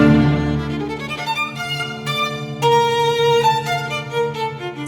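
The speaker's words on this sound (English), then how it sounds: "what you just heard was the opening violin solo run of the Brahms Violin Concerto" Opening violin solo run of the Brahms Violin Concerto, a bright, sustained solo violin line with clear rising and shifting notes over soft orchestral backing, close and prominent with no talking.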